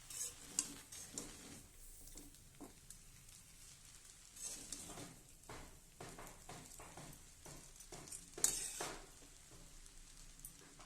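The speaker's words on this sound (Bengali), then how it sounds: "আর 2 থেকে 3 মিনিটের জন্য চাউমিনটাকে একটুখানি ফ্রাই করে নেব" Egg chowmein being stir-fried in a pan, with soft sizzling under a run of irregular ticks and scrapes from utensils tossing the noodles, fairly quiet and close.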